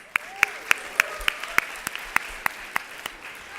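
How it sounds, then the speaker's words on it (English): A small audience at a student government nominating convention gives scattered, evenly spaced handclaps of about a dozen sharp, separate claps, fairly faint and steady, honoring an outgoing student vice president. "Let's give her a round of applause."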